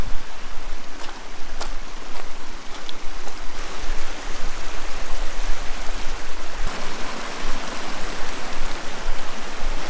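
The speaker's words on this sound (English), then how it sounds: "The river was not here when we left." A river rushing steadily in a valley, loud continuous broadband water noise close by with no pauses and no talk.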